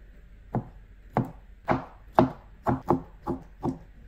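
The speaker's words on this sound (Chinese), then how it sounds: "木耳切碎。" A knife chops wood ear mushroom on a cutting board: eight crisp, close thuds at an uneven pace, each standing alone against near silence.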